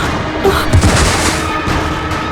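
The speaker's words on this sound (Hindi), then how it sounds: "गोली मार दी," A gunshot in a Hindi TV crime drama scene, a short booming crack that rises out of tense background music and noise, with a couple of low thumps close together near the middle.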